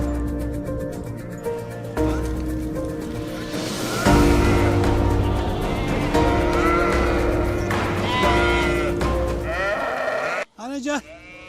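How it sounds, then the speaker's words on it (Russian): A large flock of sheep and lambs grazing on local pasture bleats continuously, many overlapping calls near and far, with people talking throughout. "Стадо овец, ягнята и их спокойные звуки превращают этот момент в живое"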